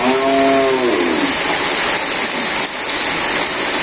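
Steady hiss of rain pouring down on a village during the rice harvest, with a low animal call fading out in the first second.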